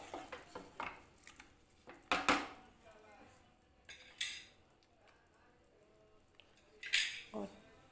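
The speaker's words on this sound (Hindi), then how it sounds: "और इस तरीके से अच्छी तरीके से मिक्स कर लेंगे दही के मिक्सचर में।" Chicken being stirred into a yogurt mixture in a pot for shahi chicken korma, with sporadic clinks and scrapes of a spoon against the vessel, fairly faint and intermittent, a few sharper knocks standing out.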